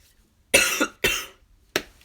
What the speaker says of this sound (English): My coughs were a lot better today.